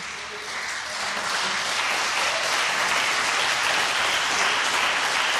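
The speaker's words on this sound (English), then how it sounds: "The applause is for Mark Allen, the world number 3." Broad, sustained clapping from a snooker arena crowd at the British Open, welcoming player Mark Allen, swelling slightly after the first second and holding steady as a dense wash of hands.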